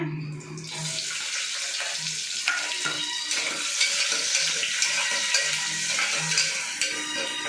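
Steady loud sizzling and crackling of spices frying in hot oil, with occasional stirring clinks.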